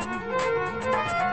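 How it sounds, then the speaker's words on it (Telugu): A cell phone ringtone plays a steady, tonal melody with sustained notes and a gently wavering lower line, heard clearly and continuously with no talking. "అది సెల్ ఫోన్ రాగం బావా"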